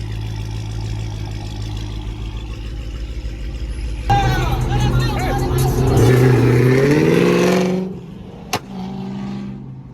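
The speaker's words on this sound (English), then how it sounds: "Got a ghost cam on a Hellcat, not a real cam, a ghost cam." A Dodge Challenger Hellcat V8 with a ghost cam tune idles with an uneven, choppy lope, then revs loudly for a few seconds before settling back to a rough, loping idle.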